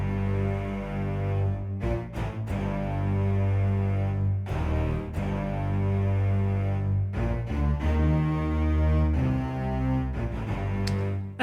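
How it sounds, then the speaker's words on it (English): An urban-style beat hook built from a bass line layered with low orchestral strings plays loud and sustained, with deep rich tones and a few brief rhythmic breaks. "I made the hook from the bass, which I layered with low orchestral strings"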